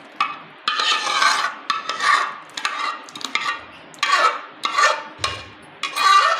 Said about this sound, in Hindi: तो अब हम इसे डिश आउट करते हैं।